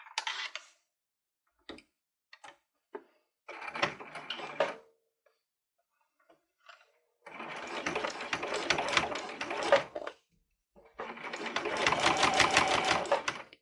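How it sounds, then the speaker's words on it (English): Sewing machine top stitching a lined fabric zipper pouch, running in several bursts: short stuttering taps at first, then two long steady runs of rapid stitching with pauses between, close and clear. "now I'm going to top stitch it"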